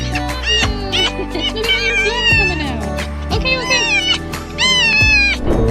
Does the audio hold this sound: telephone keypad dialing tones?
no